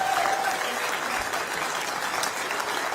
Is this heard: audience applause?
yes